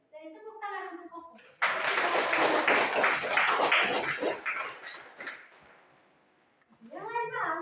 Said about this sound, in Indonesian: Jadi tepuk tangan untuk Koko.